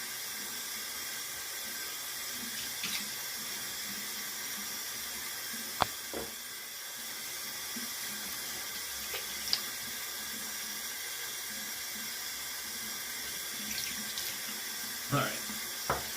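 Water runs steadily from a tap into a sink during a shaving routine at a bathroom counter, a soft continuous hiss lasting about sixteen seconds with a few faint clicks and knocks.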